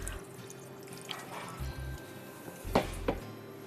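Broccoli being rinsed in water in a kitchen, with soft pouring and dripping splashes and a couple of brief louder splashes near the end, quiet and close.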